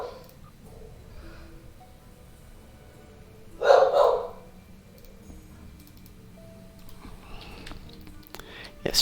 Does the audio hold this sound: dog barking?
yes